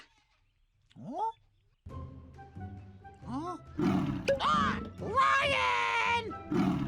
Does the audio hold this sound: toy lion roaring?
yes